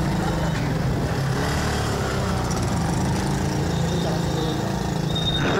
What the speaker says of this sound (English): This is the first time I'm riding any kind of a scooty.